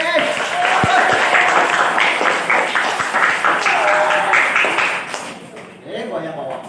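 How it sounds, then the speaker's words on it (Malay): Classroom applause for a student volunteer at a district teacher innovation award event in Batu Pahat, steady clapping from a group continuing throughout, mixed with talk. "Berikan tepuk tangan untuk Danish."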